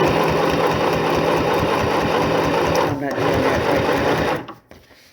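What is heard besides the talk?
sewing machine stitching tote bags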